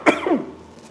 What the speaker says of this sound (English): excuse me on the coughing